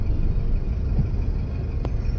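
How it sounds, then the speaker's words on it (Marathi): Road traffic on the approach into Pune, a steady low rumble of cars and engines with one brief sharp noise near the end, no talking. "आपली पुण्याची फेमस ट्राफिक आहे बघा"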